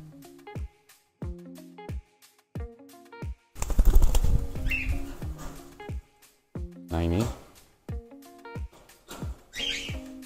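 Falk lovebird chicks in a cage flap their wings in a couple of brief, busy bursts and give a few short chirps, while a person talks over them in short phrases.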